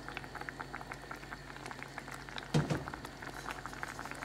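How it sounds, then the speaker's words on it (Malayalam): A pot of brinjal curry, a tamarind puli kulambu, bubbles at a steady boil, heard close as soft continuous popping and blipping, with one louder burst of bubbles midway. "നല്ലപോലെ ഒന്ന് ചേർന്ന് തിളക്കുന്നുണ്ട് വഴുതനങ്ങയൊക്കെ നന്നായിട്ട് വെന്തു നല്ല മണം വരുന്നുണ്ട്"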